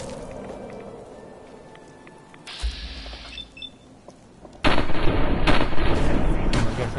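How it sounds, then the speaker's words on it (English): Gunfire aimed at a window in the video game Fallout 4: a few sharp game shots and then a loud, sustained burst of rapid fire that dominates the last few seconds, with no voices. "I guess I can't shoot through that window."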